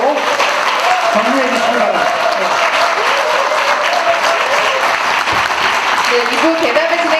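An audience at a book launch event at the National Assembly Library gives sustained, dense applause that fills the whole stretch, while a host speaks briefly over the clapping.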